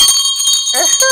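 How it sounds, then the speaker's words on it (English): A notification-style bell rings with bright, sustained chime tones over an ongoing voice, lasting about a second and fairly loud. "You hit that bell."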